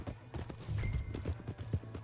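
Horse hooves clip-clop in Red Dead Redemption 2, a quiet, uneven run of soft hoof strikes close by with no talk over them.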